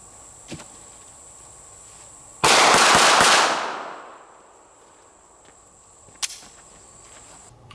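A pocket pistol fires outdoors at a distant target. One loud, harsh blast is followed by a rolling echo that fades over about a second. A few faint clicks sound before and after, with a steady insect chirp in the background.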